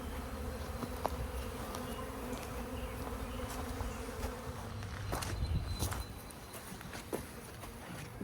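Honeybees buzz around a backyard beehive, a steady dense hum that fills the whole stretch, close and continuous, with a few faint knocks and rustles from the hive work mixed in.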